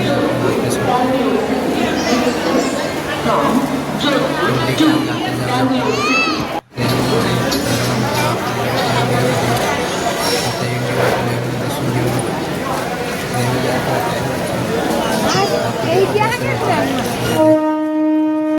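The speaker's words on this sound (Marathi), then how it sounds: "रेल्वे स्टेशनमध्ये खूपच गर्दी आहे." Busy railway station crowd in Surat, a dense continuous hubbub of many voices with children's shouts and chatter, loud and close throughout, with one brief dropout.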